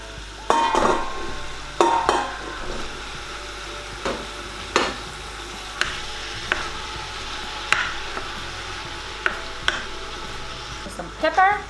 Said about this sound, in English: I am now going to add in my bacon. And all of my minced beef.